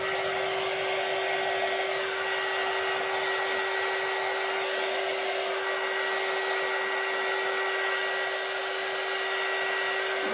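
A hair dryer blows steadily and loudly at close range, drying a painted block with a fussy cut edge for a paint project; a constant whine with no pauses.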